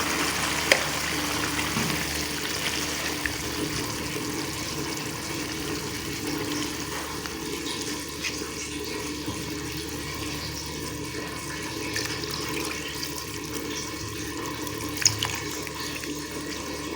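Water runs into a cooking pot of vegetables and rice for pulao, a steady gushing pour at close range with faint sizzling underneath, continuing evenly with occasional small clanks.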